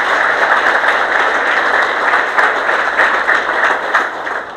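An audience bursts into loud, sustained applause, many hands clapping densely together for several seconds before it begins to ease off.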